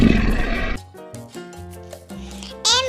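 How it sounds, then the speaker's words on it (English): A lion gives a short, loud, rough roar at the start, followed by quieter tonal sounds and a brief bright burst near the end. "L for lion."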